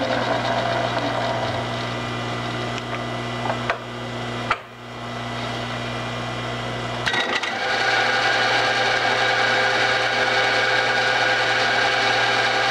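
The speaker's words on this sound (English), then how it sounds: "Well, let's do a center drill first." A steady lathe hum with a low drone runs throughout while center drilling, briefly dipping and shifting as the machine works, loud and close with no talking.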